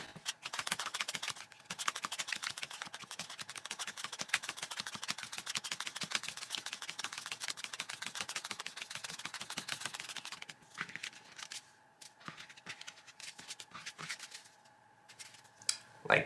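Close, rapid fluttering clicks of Creature Comforts board game cards being shuffled, a dense continuous patter that turns sparser and more broken toward the end.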